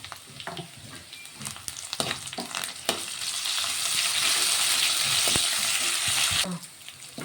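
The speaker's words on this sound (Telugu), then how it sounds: "ఇప్పుడు ఇందులో కొంచెం అల్లం వెల్లుల్లి పేస్ట్ వేసుకుంటున్నాం." Ginger garlic paste hits a hot pan for fried rice and sizzles loudly and steadily for several seconds, with stirring clatter and scraping before the frying swells, then drops away at the end.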